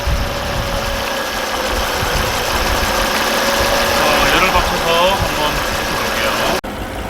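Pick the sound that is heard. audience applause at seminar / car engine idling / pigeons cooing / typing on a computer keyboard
car engine idling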